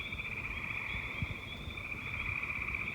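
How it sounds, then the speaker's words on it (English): A chorus of frogs croaks outdoors at night near a patio with a dying fire, a continuous, even trilling drone with faint low rustles beneath and no voices. "I just wanted to record again because the frogs are a little quieter"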